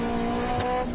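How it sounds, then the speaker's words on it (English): A Nissan Patrol Y61 engine revs hard with a strong, steady tonal drone, loud and close as the wild cam profile engages during aggressive driving. "When you rev the car and you're driving more aggressively, the wild cam profile kicks in, VTEC kicks in."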